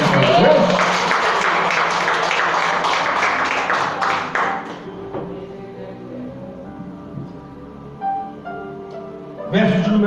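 A Pentecostal church congregation claps and applauds loudly and rhythmically for several seconds. The clapping then fades abruptly into quiet sustained musical tones, with a brief burst of sound returning at the end.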